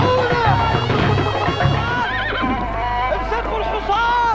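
A horse neighs and whinnies loudly over a busy, noisy background, with hooves clopping and voices present throughout.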